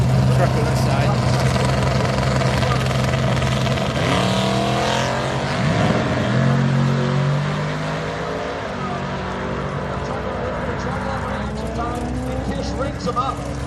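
Drag race cars at an LS Fest East event accelerating hard down an eighth-mile track, loud engine roar with rising pitch sweeps as cars launch and pass, steady crowd-level background throughout.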